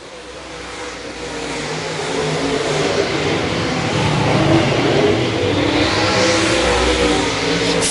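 Race cars on a speedway's final lap roar past as a loud, continuous engine wash that swells and fades with passing revving cars, one close pass rising near the end.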